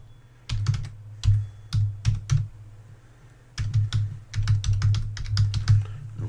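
Someone types a new password on a computer keyboard: bursts of quick, close key clicks separated by short pauses, with a low hum underneath and no voices.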